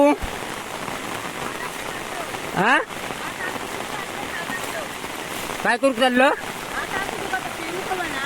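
Rain falls outdoors in a Konkan village, a dense steady patter on surfaces and umbrellas heard close and continuously, with someone speaking in short bursts over it.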